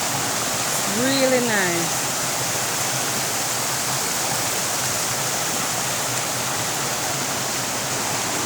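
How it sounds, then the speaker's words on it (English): Steady, loud rush of a Jamaican river flowing, a dense continuous wash of water noise throughout, with a brief spoken comment near the start over the flow. "And here we have another section of the river."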